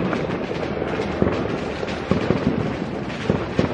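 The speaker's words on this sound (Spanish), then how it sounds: "A ver quién tira el petardo más fuerte" Firecrackers crackle and pop continuously on Sant Joan night in Zaragoza, with scattered louder bangs punctuating a dense, rumbling barrage.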